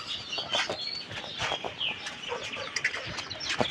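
Hens cluck at a home poultry setup, soft scattered clucks and chirps at moderate distance over a busy outdoor background.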